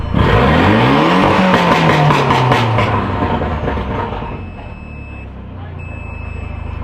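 A big-turbo car on launch control, its engine revving hard in a rising, stuttering burst that sweeps upward, then settles to a lower idle with a thin high whine, loud and near.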